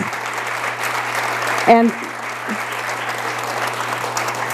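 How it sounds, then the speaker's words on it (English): Audience applause for the candidates at the close of the 2018 Sedona mayoral forum: an even, sustained patter of clapping over a low electrical hum, with a brief tonal sound partway through. "Let's give the candidates a round of applause."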